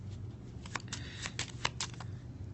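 A deck of playing cards for the Flip City card game is shuffled up close in a quiet room, giving a run of soft, rapid riffling snaps and ruffles over a faint low hum.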